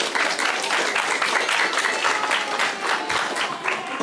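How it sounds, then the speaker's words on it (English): A church congregation applauds for its young children's group, steady dense clapping from a crowd that fills the room without pause. "So let's clap for our littles."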